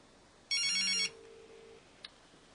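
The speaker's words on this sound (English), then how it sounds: "We can just make a call." Outgoing call ringing tone from an HTC Magic phone, heard as one short bright electronic burst with a lower tone trailing off, quiet and close, followed by a faint click, no talking.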